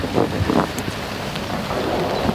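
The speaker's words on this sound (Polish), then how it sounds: "Dalej nam pada." Steady rain pattering down on the water, mixed with gusty wind buffeting the microphone; no one speaks.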